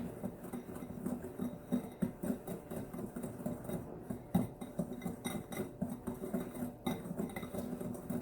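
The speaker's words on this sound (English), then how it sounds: "I just like to whisk it up. Stir it up real good." A homemade laundry soap mixture being whisked and stirred in a bowl, giving a steady run of soft clinking and scraping strokes in an even rhythm, close and moderately quiet, with no voices.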